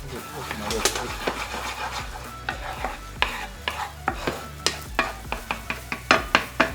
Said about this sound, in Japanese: 先ほど使ったごま油の半分の残りそぼろ作ります。 火加減はね中火ぐらい入れます。